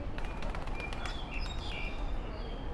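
A parrot and pigeons calling in an aviary at Kowloon Park, Hong Kong, produce faint, scattered chirps and short calls at a distance over a soft, steady background hum.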